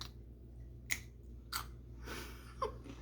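Three separate crunchy bites of homemade crackers, crisp and close, each followed by faint chewing, with a steady low hum in the background.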